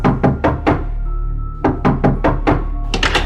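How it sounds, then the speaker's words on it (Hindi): Knocks rap on a door in quick bursts of three or four loud, hollow thuds, then a pause, then another rapid series, close and unaccompanied by talk. "बाहर दरवाजे पर हो रही थी दस्तक"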